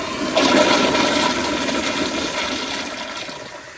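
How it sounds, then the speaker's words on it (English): A 1993 Kohler Kingston wall-hung toilet flushes with a loud, close rush of water that swells quickly and then drains steadily for several seconds, with no voices. "So here is another flush."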